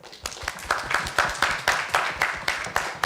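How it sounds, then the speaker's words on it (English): Rhythmic clapping at a steady, even beat, fairly close and continuing for several seconds without talk, for the grand finalists of a middle school English debate competition. "So please give a round of applause to our grand finalists"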